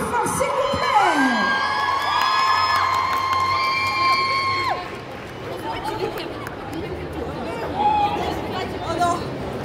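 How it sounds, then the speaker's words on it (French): A convention audience at a cosplay contest cheering and applauding performers dressed as Eren and Levi from Attack on Titan, loud crowd noise with whoops and chatter under bright music and tones that fade midway, then settle into murmuring. "On les applaudit bien fort, s'il vous plaît."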